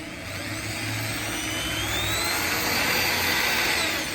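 A cordless drill with a 3/16 bit whirs continuously at close range, drilling out a metal rivet, its high motor whine grinding steadily into metal without a break.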